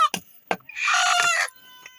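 Chickens being given to a family to raise cluck and squawk up close, with two sharp clucks followed by a long, loud strained call and a faint trailing cluck, with no talking.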